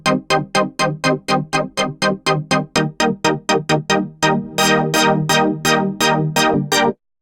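A gritty synthesizer in Arturia Pigments with overdrive and chorus plays a rapid run of repeated staccato notes, the tone widening and brightening partway through, then stopping abruptly.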